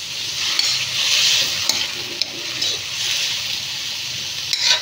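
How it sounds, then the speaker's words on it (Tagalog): Milkfish (bangus), partly frozen and lightly dusted with cornstarch, frying in hot oil with a loud, dense, close sizzle that swells and eases, dotted with a few sharp spattering pops and no talk. "Kasi pinakamaingay kasi pinakamatalamsik yung bangus pag piniprito."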